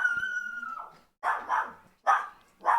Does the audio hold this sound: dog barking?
yes